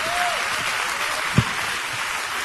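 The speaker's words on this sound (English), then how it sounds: "Let's clap our hands for a moment." A church congregation claps together during a worship service, a steady wash of applause that holds evenly throughout, with one sharp thump partway through.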